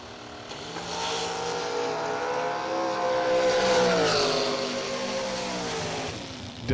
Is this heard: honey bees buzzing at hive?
no